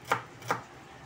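A sharp kitchen knife cuts lengthwise strips of onion on a board, giving two crisp chops about 0.4 seconds apart, close and clear with quiet between them.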